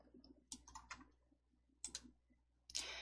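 Sharp computer mouse clicks come in small clusters, quiet and close, with near silence between them.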